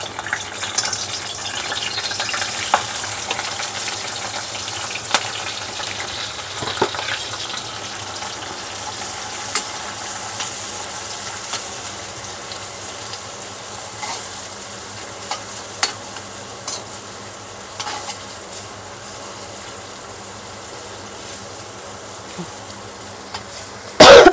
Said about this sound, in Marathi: आता कांदा चांगला लाल होईपर्यंत ना छान असा परतून घ्यायचा.